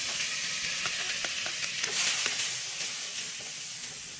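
Garlic frying in hot cooking oil for pork binagoongan with pineapple, a steady bright sizzle with crackling pops that swells slightly midway, close and continuous with no talk.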